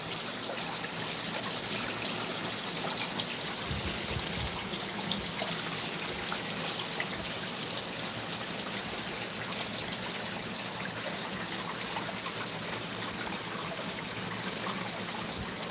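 Water pouring powerfully from a hose or pipe to fill a new pond, a constant dense rushing and splashing with slight backsplash, steady and loud throughout with no pauses.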